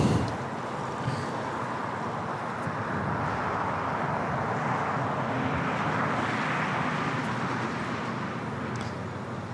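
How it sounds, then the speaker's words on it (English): An Air Canada Dreamliner airliner taxis and turns at Los Angeles International Airport, giving a steady, moderately distant broadband roar of jet engines that holds at a constant level throughout, with no voices. "Air Canada Dreamliner making that turn"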